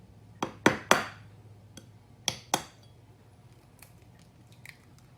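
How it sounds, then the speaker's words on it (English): Fresh egg cracked open in a kitchen: a few sharp taps of shell against a hard surface, a crisp crack, then softer faint drips and small clicks as the contents fall, close and quiet without talk. "Now, break open a good fresh egg."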